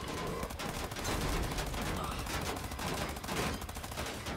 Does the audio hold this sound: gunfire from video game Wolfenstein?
yes